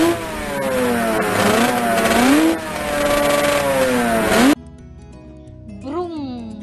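Vehicles pass on a roadside, with engines revving and rising in pitch, while a voice talks and imitates the engine sound.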